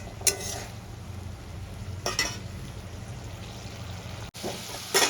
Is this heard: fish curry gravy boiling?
yes